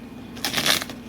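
A quick riffle of a tarot deck being shuffled, a brief papery burst of flicking cards lasting under a second, close and alone.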